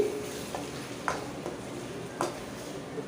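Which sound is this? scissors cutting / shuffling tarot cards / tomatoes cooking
tomatoes cooking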